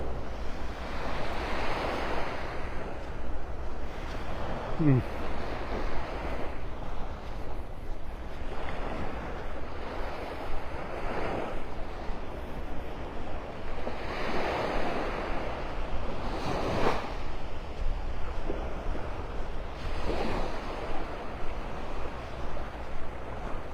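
Ocean waves wash ashore at Delnor-Wiggins beach in North Naples, Florida, on an early morning with the tide going out; soft surf swells and recedes in slow, repeating surges, mixed with light wind buffeting the microphone.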